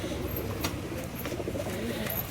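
Pigeons coo in a racing pigeon loft, soft throaty calls repeating close by over a steady murmur of the birds, with people talking nearby.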